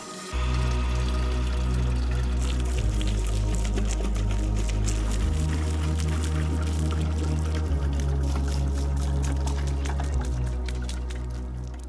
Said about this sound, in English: Now we can water the jump.